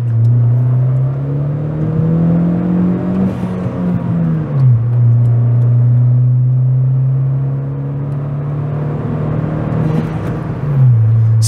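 Honda Civic Si with roughly 200 horsepower driving uphill and accelerating, its engine a loud, steady drone that climbs in pitch, drops at a shift around four seconds, climbs again, then drops near the end, with no talking.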